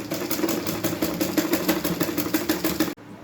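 A sewing machine stitching palazzo fabric with lace, giving a rapid, even mechanical chatter at close range that stops abruptly near the end.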